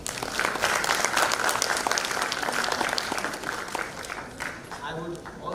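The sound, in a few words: audience applause at a conference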